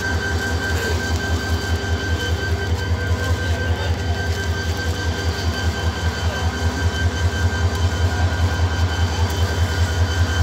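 Paharika or Udayan Express from Sylhet to Chittagong standing at Sreemangal railway station, a steady low idling diesel rumble with a pulsing throb and faint station background, continuous and fairly loud throughout.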